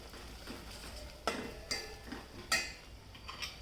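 Onion, garlic and masala spices being sautéed in a pan over low heat for katachi amti, with a few sharp spoon-on-pan scrapes and clinks over a faint background.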